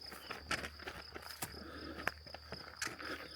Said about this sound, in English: Only you can hear is the crickets and the birds